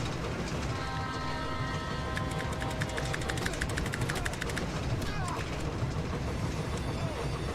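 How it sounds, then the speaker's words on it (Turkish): A train bears down and strikes the car in the racing game Need for Speed: The Run, a loud dense rumble with a sustained horn-like tone and rapid clattering bursts that stay steady from start to finish. "Tren ezdi bizi."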